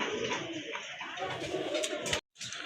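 Pigeons coo steadily in a loft of paired birds kept for sale, a close, continuous murmur broken by a brief silent gap near the end, with faint voices mixed in.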